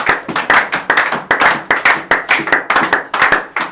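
A church congregation claps together in a steady rhythmic beat after the scripture reading, sharp clustered hand claps close and loud, repeating evenly for several seconds with no talk.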